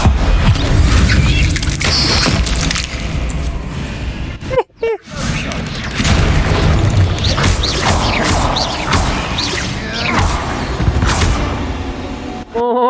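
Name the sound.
Bombarda explosion spell in the Hogwarts Legacy video game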